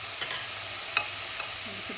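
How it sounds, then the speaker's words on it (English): Salt meat sizzling as it is added to a pot for Trini callaloo, a steady soft frying hiss with a few faint stirring clinks, close and fairly quiet. "at the bottom here, I'm going to add my salt meat"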